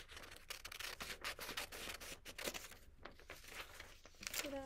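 Scissors cut through paper math worksheets with quick, close crisp snips and rustling handling, steady and fairly quiet, with no speech.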